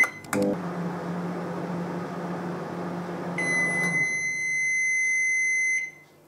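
A microwave oven, set to 2:40 at 70% power, hums steadily for a few seconds before falling quiet, then a long continuous beep sounds, loud and close, with no talk.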